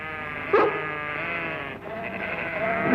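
Sheep being driven on a farm bleat repeatedly, a few clear mid-distance calls over a steady background of other animal sounds.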